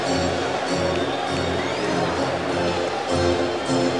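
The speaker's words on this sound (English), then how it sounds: "Crowd gets on its feet, cheering for Tony Dudley and the Knicks' three-point shooting." Crowd noise at a New York Knicks basketball game after a three-pointer, a broad, steady roar of cheering and babble that holds loud for several seconds with faint tonal sounds mixed in.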